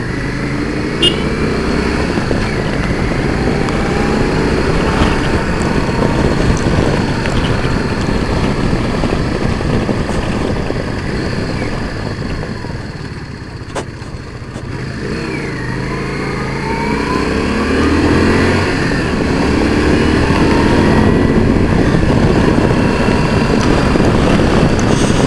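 Yamaha MT-03 motorcycle engine running loud and close while riding, a continuous throaty drone that eases briefly midway and then builds back up, with no talking.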